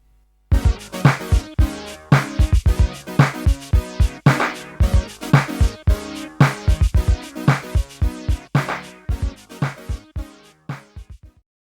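A disco groove with punchy drums and bright stabbed chords in a steady, repeating rhythm, loud and upfront with no voices.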